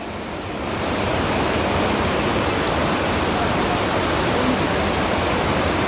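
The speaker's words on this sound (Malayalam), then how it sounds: "ഇതാ സ്കൂളിൻ്റെ ഇതിൽ കൂടെയൊക്കെയാണ് വെള്ളം വരുന്നത്." Floodwater rushing through a school after a landslide in Wayanad, Kerala, a loud, broad, unbroken roar of churning water that swells in at the start and then holds steady.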